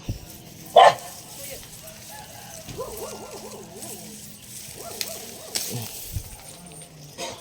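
A dog barks a few times at a distance amid outdoor background noise, with people talking nearby.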